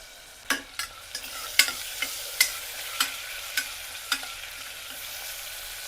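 Coarsely ground native tomato, garlic, ginger and green chilli paste sautés in a pan, soft sizzling under a run of about ten clear spoon-scraping and stirring taps, close and fairly quiet.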